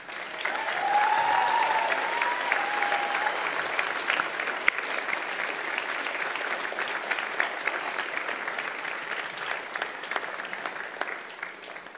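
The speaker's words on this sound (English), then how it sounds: "give them a big clap and a cheer" Graduates at a graduation ceremony applauding their families, a dense, sustained crowd clap lasting many seconds, with a brief whistle or cheer early on, gradually thinning toward the end.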